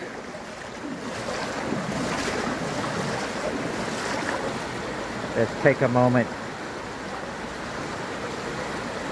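Fast-flowing floodwater rushes through a canal in Phuket town during the October 2022 flood, a steady broad roar mixed with wind buffeting, while someone speaks briefly in the middle.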